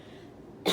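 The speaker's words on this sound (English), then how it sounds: "I didn't want to cough right away" A single short cough bursts out abruptly at the very end after a quiet stretch, close and fairly loud.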